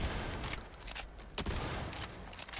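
Rapid booming blasts from the Hellwalker, a legendary Jakobs shotgun in Borderlands 4, crackling with loud, dense gunfire and a few sharper reports over a noisy backdrop.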